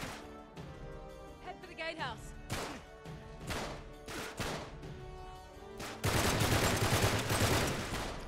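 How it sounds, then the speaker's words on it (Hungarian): Gunfire erupts in the action-adventure video game Uncharted 3, with sharp separate shots cracking one after another, then a dense, louder burst of sustained firing in the final seconds. "Az egy nagyon szép lövés volt."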